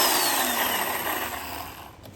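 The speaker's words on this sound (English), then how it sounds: "Hard battery powered chainsaw." A battery-powered chainsaw cuts through wood during a porch renovation, a high whining buzz close by that gradually drops off near the end.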